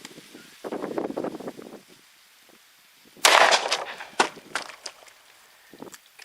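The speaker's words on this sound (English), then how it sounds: "Shooting downrange at a cantaloupe." .357 Magnum gunshots from a Hornady LEVERevolution load fired downrange outdoors at a cantaloupe: a sharp loud report around the middle, followed by several quicker cracks and thuds, with a quieter burst of activity earlier.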